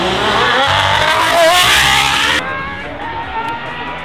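Aston Martin Valkyrie with a 6.5-liter Cosworth V12 engine roaring loudly at high revs, rising in pitch, then abruptly dropping to a quieter, lower drone about halfway through.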